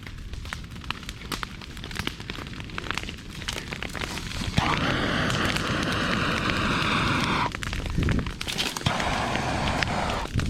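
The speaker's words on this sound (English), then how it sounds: "Now that we're lighting the upwind side, it should pick up some steam here pretty quick." Controlled burn spreading across a clover CRP field, a crackling, rushing roar that swells partway through and stays loud, with scattered sharp pops and a steady tonal hiss, close by.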